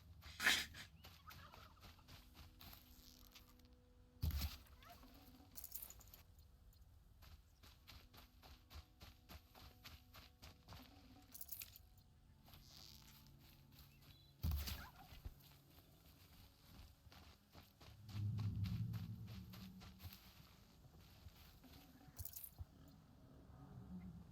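Turkeys gobble in Horizon Zero Dawn, with three of them gathered around a dead Watcher machine. Short, faint calls repeat over a busy background of game ambience and clip-clop-like footsteps, and a couple of louder bursts stand out.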